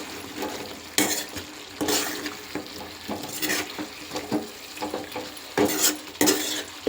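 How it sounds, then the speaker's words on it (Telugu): Chili powder gets stirred into chicken curry in a pan, giving irregular spoon scrapes and clinks against metal over a gentle frying sizzle, close up with no voices. "కారం వేసిన తర్వాత ఒకసారి ఇలా కలుపుకుందాం మొత్తం."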